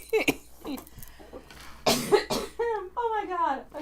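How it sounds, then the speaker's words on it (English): Several harsh coughs burst out in short clusters, close and loud, mixed with laughter and a voice talking during a live tarot reading stream. "I'm going to stop laughing and coughing"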